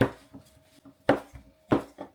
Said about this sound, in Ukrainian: Я буду розкачувати тоненько на діаметр своєї сковорідки.